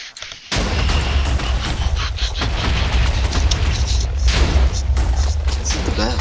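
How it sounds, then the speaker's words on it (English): TNT blasts in a video game pyramid adventure map, a sudden loud boom followed by continuous rumbling, overlapping explosions that keep going without pause. "As the TNT keeps exploding."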